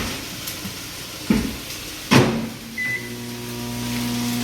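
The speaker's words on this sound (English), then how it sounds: "I'm gonna take my cheese and put it in the microwave and melt it." A kitchen microwave oven melting cheese, with a door clunk or two followed by a steady hum switching on with a low drone, then a short beep, all heard close and fairly quiet.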